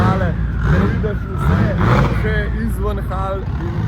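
Cars driving out of an exhibition hall after a big Slovenian car and motorbike show, engines revving and rumbling up close with overlapping traffic and voices talking throughout.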